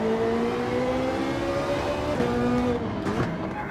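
Ferrari race car in Gran Turismo 7 driven hard, engine holding a loud steady high-revving tone that dips briefly on gear changes and braking, with faint tire noise near the end.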